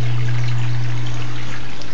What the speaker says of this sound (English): So now the water is coming in.